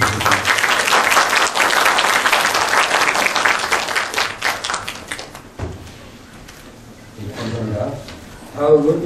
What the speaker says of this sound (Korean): 참 축하의 박수 한번 부탁드립니다.